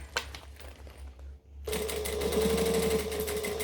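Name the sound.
sewing machine top stitching around a bag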